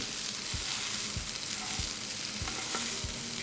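Boiled rice for vegetable fried rice is tossed in a hot, sizzling pan, with soft rhythmic thumps about every half second over a steady frying hiss.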